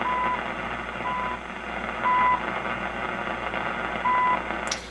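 Repeated time signal tones received on a Motorola 65T21 shortwave radio, short steady beeps recurring about once a second over a constant hiss of static, with a couple of slightly louder pulses.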